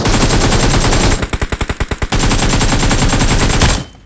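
Rapid automatic fire from P90 submachine guns in a shooting game, a loud continuous stream of shots with a brief stretch of distinct individual rounds before cutting off abruptly.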